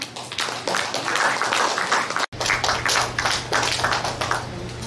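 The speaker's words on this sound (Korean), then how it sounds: "박수로 맞이해 주세요" An audience claps to welcome a contestant at a national storytelling contest for visually impaired people held at a braille library, brisk, close hand claps with a short break midway before the clapping resumes.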